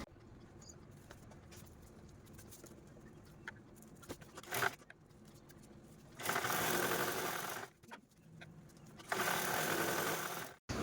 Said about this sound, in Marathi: आणि अशा पद्धतीने ठेवून अगोदर आपण या दोन्ही कडा स्टिच करून घेऊया